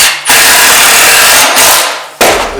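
Power drill driving screws into wood, loud and close: two long bursts of whirring drive with a short pause between them, then a brief final burst.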